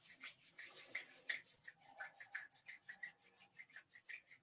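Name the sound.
rubbing hands together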